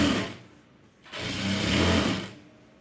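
A sewing machine stitches piping onto a garment in two bursts of steady, close mechanical whirring with a short pause between them.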